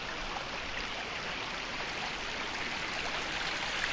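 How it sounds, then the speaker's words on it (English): Creek water rushes steadily at a trail crossing on the Middle Fork section of the Ozark Trail, a broad continuous flowing hiss close by with no talk. "This is the water crossing."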